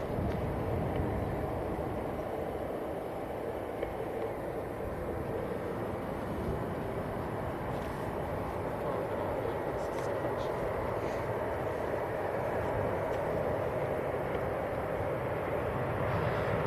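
A Lufthansa Airbus A320 from Munich lands at Manchester Airport with a broad, steady roar heard from a distance. A voice talks over the noise.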